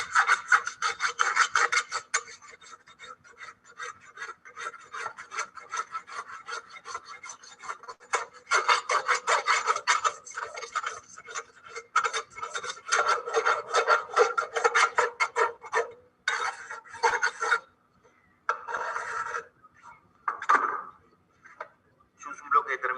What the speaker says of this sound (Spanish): procedemos a darle terminación al casco,